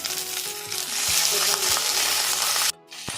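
Hilsa fish cooking in a pan, a strong bright sizzle up close with a few low knocks, swelling midway and then cutting off sharply near the end before resuming faintly.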